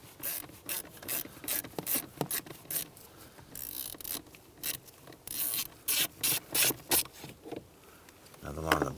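A ratchet backing out a 7/32 bolt under a 2004-2012 Chevrolet Colorado, making quick, close clicking strokes in a steady rhythm, with a person talking faintly at times.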